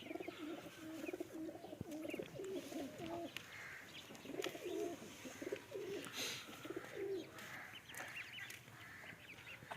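Several flying-breed pigeons at a rooftop loft in Pakistan coo softly in repeated low, throaty phrases, fairly close and steady throughout, with faint background rustle and no talking.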